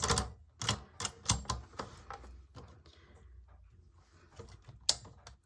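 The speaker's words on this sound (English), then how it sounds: "So when you're typing on fabric, you don't need to do anything special." A manual typewriter striking onto fabric, with bursts of sharp, irregular key clacks and a couple of louder bangs, then quieter stretches of softer taps. The sound is close and dry, with no talking.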